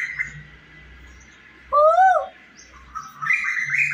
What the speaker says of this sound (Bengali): বসন্তকাল তো পড়ে গেছে, কোকিলের ডাক শুনছি বসে বসে